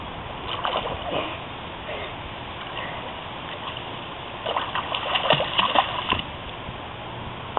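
A child swims and splashes in a pool, with irregular sloshing and splatters of water up close and brief bursts of bigger splashing; voices are faintly present in the background.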